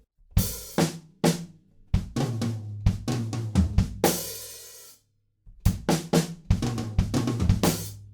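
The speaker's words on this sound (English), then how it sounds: "Coming out of that chorus, we have another fill," A drum kit plays a fill coming out of the chorus of a song: punchy snare and tom hits with kick, a ringing crash mid-way, a brief pause, then more busy hits and another crash, loud and close.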